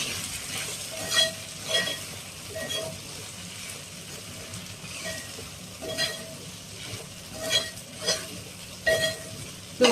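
Okra (ladies finger) fries in a pan while being stirred, a soft sizzle broken by intermittent scraping and stirring strokes, close by, with no talking.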